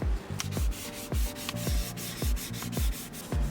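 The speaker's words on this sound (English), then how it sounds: "Sand down the damaged areas of the rim and knob with fine grit sandpaper." Fine grit sandpaper rubbed back and forth over a steering wheel rim in steady, rhythmic strokes, about two per second, close and clear with no talking.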